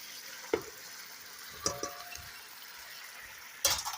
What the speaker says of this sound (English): Now we're going to add the vegetables.